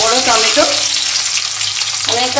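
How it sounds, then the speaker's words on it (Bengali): Finely chopped tomato frying in hot oil for a potato curry, a loud, close, continuous sizzle with a faint voice-like tone at the start and end. "তেলেতে ভালো করে কষে নেব।"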